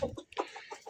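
A chicken clucks in a quick series of short, nearby calls, close to the microphone and fairly quiet.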